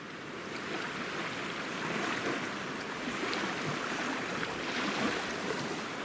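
The New River, running high, rushes in a steady, broad roar, a constant wash of flowing current with no voices.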